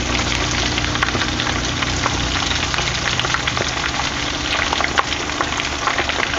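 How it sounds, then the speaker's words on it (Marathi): Potato lollipops deep-frying in oil produce a loud, dense and continuous bubbling sizzle that stays even throughout, close at hand. "असं आपल्याला पलटी करून चांगलंच हे तळून घ्यायचं"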